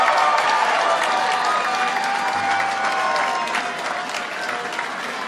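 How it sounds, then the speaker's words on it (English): Steady, loud applause and cheering from a large crowd at Maryland Republican governor-elect Larry Hogan's victory speech, sustained throughout and easing slightly toward the end. "Let's give them a round of applause."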